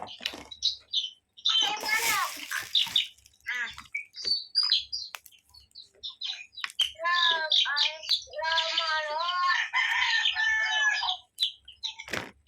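Chickens cluck and squawk in a busy, uneven stretch, with a few sharp calls rising above a chatter of bird sounds close by.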